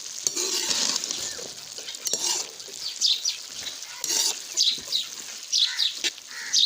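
A spoon stirs keema with cauliflower and potato in a pot, producing repeated scraping and wet shuffling strokes over a soft sizzle, close and moderately loud, with no one speaking.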